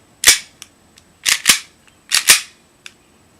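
A KWA ATP airsoft pistol with an aluminum slide firing: five sharp, snappy cracks in quick pairs and singles, each with a short clack, close and loud against a quiet background.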